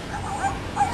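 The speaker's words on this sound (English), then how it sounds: "Hear something barking." A Chubby Puppy Shopkins-style toy puppy gives off a short, thin electronic yipping bark, a couple of high chirpy notes over a steady background hum in a toy store.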